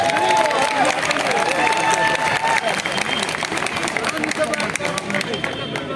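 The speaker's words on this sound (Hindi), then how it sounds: "सभी भाई ताली बजाएंगे जोर से" A crowd at an outdoor MCD election rally in Narela, Delhi claps steadily and loudly throughout, with babble and a voice speaking over the applause.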